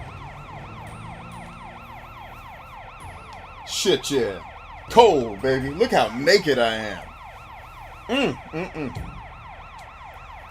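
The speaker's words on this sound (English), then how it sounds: "How do you turn the damn sirens off?" Wailing police sirens in the video game Sleeping Dogs sweep up and down steadily in the background while someone talks and exclaims over them.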